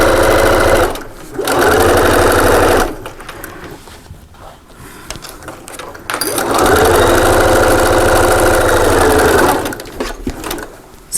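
A sewing machine runs loud and steady in two long stitching bursts making a small double cup holder, with a short pause between as the needle pivots and back stitches, then stops near the end.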